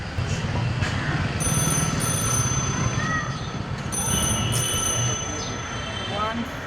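An incoming call sets a phone ringing in short repeated bursts of bright electronic tone, separated by pauses, over steady background noise and murmur.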